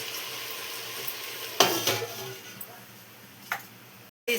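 Chukkakura sorrel leaves are stirred for chutney in a non-stick pan. There are a few close scraping strokes and clinks of a spoon over a faint sizzle, separated by quiet gaps.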